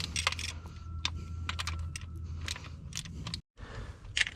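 A 1/4-inch ratchet snugs bolts on a Toyota during a winter-storm repair, giving close, repeated bursts of sharp clicking with brief pauses, alone and without speech.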